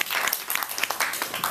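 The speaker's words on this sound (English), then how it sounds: "Round of applause, guys." Audience applause at an event in Indonesia, a dense, steady patter of many hands clapping at moderate loudness for a short burst, with no clear voices over it.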